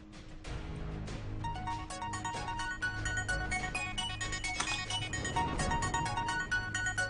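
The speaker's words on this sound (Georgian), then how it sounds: "რეკავს" A phone ringtone plays as a bright, repeating melodic tune with steady chiming notes over a low background, continuing at moderate volume with no speech.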